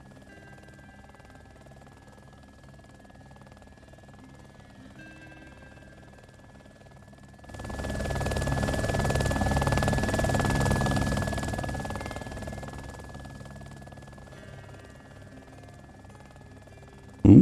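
Helicopter in the video game DayZ, a faint hum that swells into a broad rotor roar midway, then slowly fades, with a steady tone running underneath.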